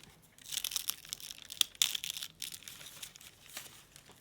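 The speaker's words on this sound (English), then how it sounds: "So I'm just going to carefully peel this back," Backing peeled carefully off a fabric collage piece, a soft continuous crinkling and tearing rustle with a few sharper crackles, close and fairly quiet.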